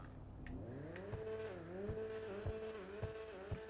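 Car engine and exhaust in GTA 5, a steady low engine drone with gentle rises and dips in pitch and a few soft thuds, faint and heard alone.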